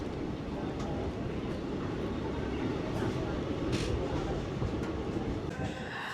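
Express train from Kolkata to Haldibar pulling out of platform 2 at Rampurhat station, heard from inside as a continuous low rolling rumble with faint rattles, with quiet background voices.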